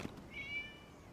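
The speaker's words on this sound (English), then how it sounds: "It's a kitty cat." A single short cat meow from the video game Genshin Impact, a thin tonal mewing cry rising and holding briefly, fairly quiet over a soft low background hum.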